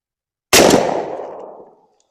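A single loud shotgun blast from a 1 ounce load through a modified choke is fired at pattern paper, an abrupt crack with a decaying boom that fades over about a second, with no voices.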